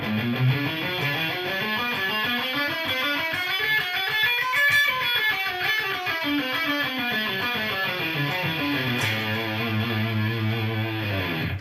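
A guitar runs up and down a scale at a steady pace, each note on one string picked twice, ending in rapid repeated notes.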